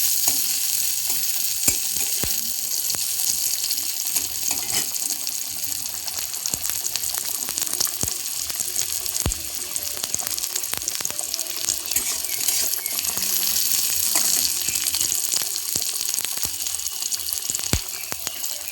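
Taro leaves frying in a pan, a continuous soft sizzle with scattered crackles and occasional stirring clinks running steadily throughout, fairly quiet and close.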